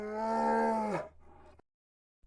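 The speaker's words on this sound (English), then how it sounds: "Bear." A bear's growl, one long deep bellowing roar that falls off at the end, heard close, followed by a short rougher rumble and then silence.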